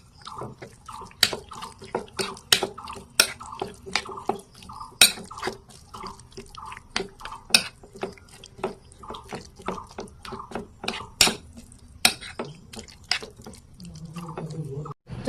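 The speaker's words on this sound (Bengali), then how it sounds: "এখন গাইস সবটি ভালোভাবে মিক্স করে নেব।" Semolina batter stirred with turmeric and chilli powder in a bowl, a spoon tapping and clacking against the sides in a steady, rapid stream of sharp knocks with wet slapping, close and loud, alone without talk.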